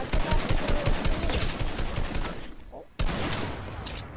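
Rapid gunfire bursts from a first-person battle royale video game fight, loud and dense for a couple of seconds, cutting out briefly before another volley resumes.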